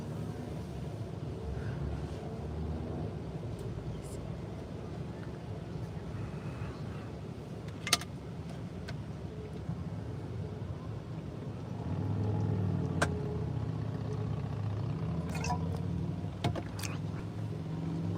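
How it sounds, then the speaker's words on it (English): A truck engine rumbles past outdoors. The low drone swells partway through, with wind buffeting and a few sharp clicks nearby. "This truck's making noise."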